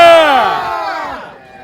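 A crowd at a Viking festival in Ashville, Ohio, lets out a loud burst of screaming and cheering, many voices rising together in one short roar that fades quickly.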